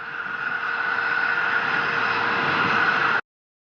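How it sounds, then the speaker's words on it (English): The first-stage engines of an H-IIB rocket fire during the HTV-9 launch, a steady, continuous roaring rush that holds level and then cuts off abruptly, with no talking. "First stage engines are continuing to fire"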